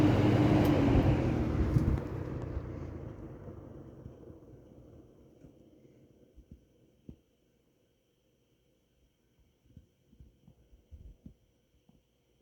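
A Kmart Lakewood P-23 20-inch box fan coasting down from high speed: a loud steady whir and hum that fades gradually over several seconds into near silence, followed by a few faint ticks and soft knocks.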